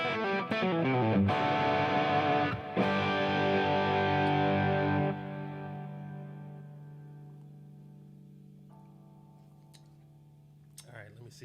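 Electric guitar chords drenched in swirling rotary modulation, two delays and long hall reverb, ringing out and slowly fading into a lingering wash.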